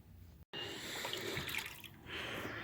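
Water from a tap runs steadily as household items are washed, a close continuous splashing stream with a brief cut near the start and shifting flow as things are rinsed under it.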